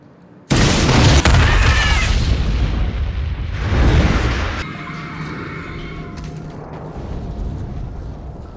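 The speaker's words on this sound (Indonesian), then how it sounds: "di London kembali terjadi sebuah ledakan bom, yang mana kali ini ledakan tersebut terjadi pada sebuah bis" A bomb goes off on a bus in a film scene, a sudden loud booming blast with a roaring tail, then a second surge before it drops to a lower rumbling aftermath.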